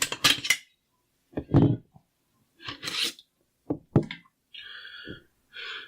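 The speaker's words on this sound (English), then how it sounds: "I'm going to take the feed cover off of the AK so you can take a look at that in the comparison" Metal parts of an AK rifle scraping and clicking as its feed cover is worked off, a series of short rasping slides and knocks separated by brief pauses, close up with no talking.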